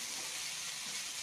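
Bitter gourd and potatoes frying in a pan, a steady soft hiss and sizzle throughout, faint and continuous with no pauses.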